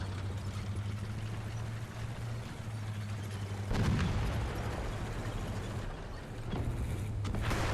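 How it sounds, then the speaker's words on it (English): Artillery barrage explodes in the War Thunder video game, heavy booms landing in bursts over a constant low engine drone, moderately distant and fairly quiet. "it was obviously artillery once the final barrage started"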